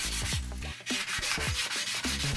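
Rapid back-and-forth scraping of 220-grit sandpaper over aluminum, a quick rhythmic rasping close up with short pauses between strokes.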